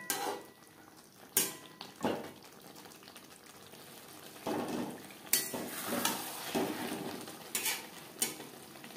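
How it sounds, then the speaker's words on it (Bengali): Potato and paneer curry with garam masala powder is stirred in a pan over a medium flame. A spoon scrapes and clinks against the metal in irregular bursts over a soft, steady sizzle. "গরম মশলা পাউডার। মিডিয়াম ফ্লেমে 2-3 মিনিট রান্না করব।"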